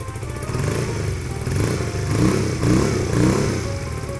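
A GPX Legend 250 Twin motorcycle's twin-cylinder exhaust revs repeatedly, rising and falling in short throttle blips over a rumbling idle, loud and close.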